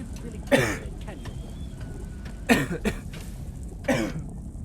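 A person coughs three separate times, each a sharp, close burst spaced about 1.5 to 2 seconds apart, over a low steady background hum.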